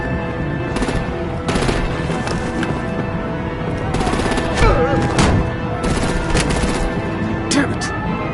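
Bursts of gunfire and heavy booming shots in Batman: The Enemy Within, repeated loud volleys with sharp cracks and a deeper thump near the middle, under overlapping game dialogue.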